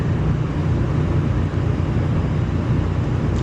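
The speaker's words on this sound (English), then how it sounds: "I know the engine sounds loud, but that's because the engine's like quite literally underneath me" Kenworth truck engine in the driving game American Truck Simulator, with the engine mounted directly beneath the cab, giving a loud, steady, unbroken drone with no talking.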